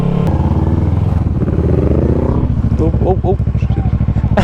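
A motorcycle engine revs hard under sudden throttle during a wheelie attempt, a loud close rumble whose pitch climbs and then falls, with a brief exclamation and other voices over it.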